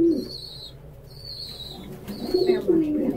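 Pet birds, likely pigeons or doves, perched on a person's head during treat time make low, soft cooing calls close by, with faint wing flutters and higher chirps in the background.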